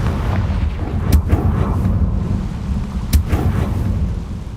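Explosive blasts from the Confringo curse in Hogwarts Legacy, two sharp booming bursts about two seconds apart over a rumbling background.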